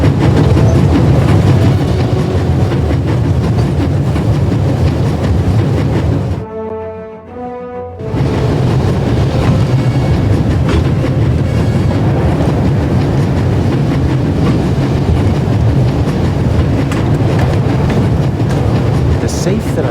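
Moving train with a steam engine in The Raven video game, a loud continuous rumble and rattle of rolling wagons with rhythmic clatter, dropping briefly to a quieter tonal hum before the heavy rolling noise returns.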